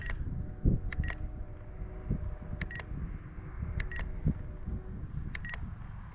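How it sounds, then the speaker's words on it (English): An RC transmitter's throttle timer alert gives short electronic beeps in spaced pairs, repeating about every one and a half seconds over a low background hum. "let's get rid of that nasty throttle beeping sound that I can't stand"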